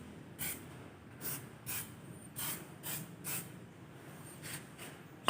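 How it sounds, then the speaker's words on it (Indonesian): Brake fluid is sprayed onto a brake disc during brake servicing: a series of about seven short, soft hissing spray bursts at an even rhythm, fairly faint. "Setelah itu kita semprot dengan menggunakan brake fluid"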